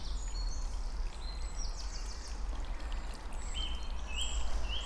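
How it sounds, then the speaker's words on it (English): Natural spring water trickling out of a cave in the Surrey Downs, a steady continuous flow with a low rumbling undertone, with birds chirping faintly in the background and no voices. "this is actually a natural spring that comes out of the cave from within the Surrey Downs. Trickles out"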